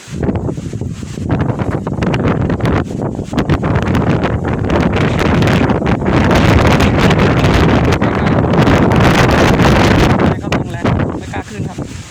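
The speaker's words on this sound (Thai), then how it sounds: "ลมแรงมากเลยครับ" Strong, steady wind on a high rocky cliff roars and buffets the microphone throughout, a loud continuous rumble with gusts.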